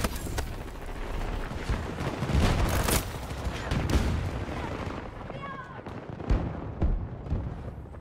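A grenade blast and bursts of gunfire in Battlefield 2042 sound loud and close, with repeated booming impacts and cracking shots in an intense battle, and faint voices now and then.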